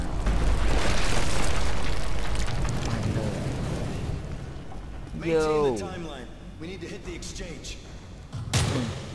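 An XM25 grenade launcher round explodes in the video game Modern Warfare 3, a loud rumbling blast that decays over several seconds before someone talks.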